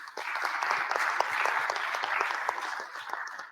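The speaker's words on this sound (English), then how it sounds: "Please clap for." An audience applauds a panelist at the Youth Ecopreneur Award finals, steady dense clapping from a crowd held at an even level throughout.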